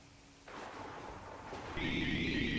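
Rain in an RPG Maker video game: a soft, hissing wash that steps up twice in loudness, then settles into a steady, brighter patter, with no voices.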